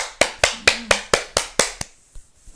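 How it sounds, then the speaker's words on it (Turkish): Eight sharp, evenly spaced hand claps ring out close by, then a few softer, scattered claps trail off into near silence. "Evet alkışlayın."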